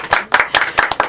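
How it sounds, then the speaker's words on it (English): A studio audience claps briefly on a live music talk show, a short burst of several loud, closely spaced claps lasting about a second, with no voices. "You all can clap for that."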